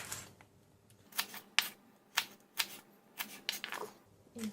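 A knife slices lemongrass for prawn tom yum, about a dozen crisp, close chopping knocks against a board in an uneven rhythm with short gaps between them.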